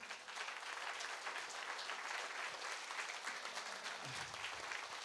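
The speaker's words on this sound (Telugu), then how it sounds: "ఒకసారి జోరు క్లాప్స్ అండి వాళ్ళకి" An audience at a company success-story event gives a sustained round of dense, even applause, many hands clapping together at a moderate distance with no pauses.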